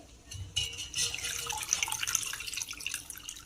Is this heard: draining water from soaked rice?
yes